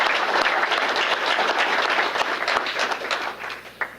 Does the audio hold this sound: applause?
yes